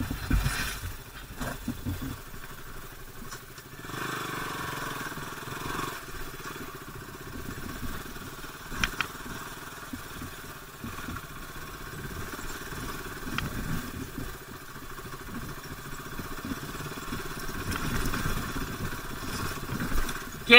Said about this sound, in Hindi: KTM RC 200 off roading first time कर रहा हूँ भाई ये ऑफ रोडिंग।